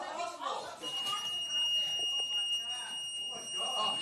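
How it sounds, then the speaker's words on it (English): A steady electronic alarm tone keeps sounding without a break, high and piercing, with voices and other noise moving underneath it. "And there's the alarm."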